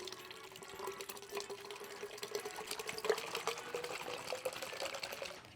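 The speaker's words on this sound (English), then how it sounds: "So we've got 7 cups of ice cold water." Ice-cold water pours steadily into a container for homemade whiskey lemonade, a soft continuous liquid stream at low volume with a faint rising filling tone.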